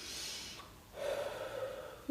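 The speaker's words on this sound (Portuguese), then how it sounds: "faz uma respiração bem profunda e solta o ar pela boca" A slow, deep diaphragmatic breath drawn in through the nose, a short pause, then a long audible exhale out through the mouth, close and quiet, ending with a brief sharper breath sound.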